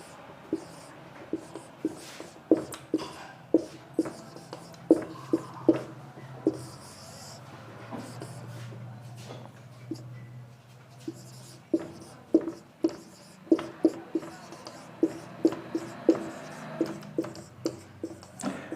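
A pen writes by hand on paper, heard close and fairly faint as a long run of light scratches and taps in an uneven rhythm, with a short quiet pause partway through.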